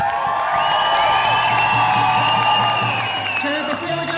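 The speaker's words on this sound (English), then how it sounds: "so I think he deserves a big round of applause." A crowd cheers, whoops and shouts at an Idle No More grand entry gathering in West Edmonton Mall, a loud, sustained wash of voices filling the indoor space with a few scattered claps underneath.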